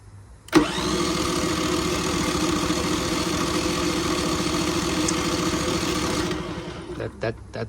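A Westinghouse iGEN4000DFc dual-fuel generator running on gasoline cranks with a sudden start, grinding steadily for several seconds without catching, then cuts off, followed by a few scattered clicks.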